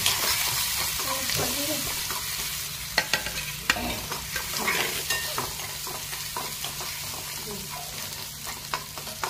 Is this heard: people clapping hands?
no